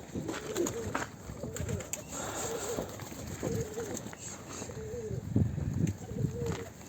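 Pigeons coo repeatedly in soft, rolling calls, with outdoor rustling and some shuffling noise around them, in snowy weather.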